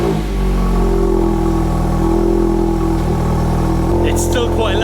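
A Volkswagen Mk8 Golf R exhaust with the particulate filter removed and a resonator fitted revving loudly up close, a deep rumbling idle climbing and holding, with a brief higher-pitched noise near the end.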